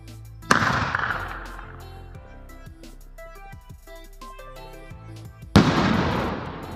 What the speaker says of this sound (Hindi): मैंने इस स्काई शॉट को टेस्ट किया था जिसका डिस्प्ले काफ़ी अच्छा था, रेड कलर में कुछ इस टाइप का।